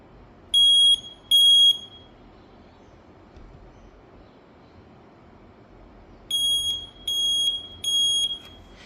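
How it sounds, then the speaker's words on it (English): A Q946 smoke alarm emits shrill piercing beeps during a test, two near the start and three more in a regular pattern after a quiet gap. "It's just a smoke alarm I got from the market."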